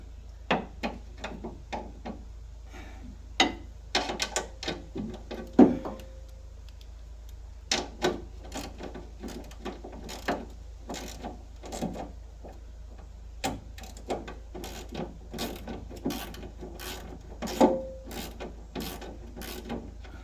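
Ratcheting and clicking of a wrench as bolts on the cross member of a Land Rover Defender 130 TD5 are loosened, with repeated short bursts of sharp metallic ticks coming close by and no talking.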